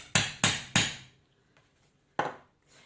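Three sharp hammer strikes in quick succession drive a metal stitching prong through leather, followed by a fourth blow after a pause; loud, close, ringing impacts with no talking.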